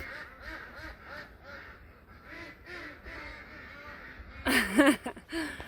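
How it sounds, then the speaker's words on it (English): Ducks quack repeatedly in a greenhouse building housing a flock, steady overlapping calls at moderate distance with a louder, closer burst of quacking near the end. "So the first half of this building is ducks."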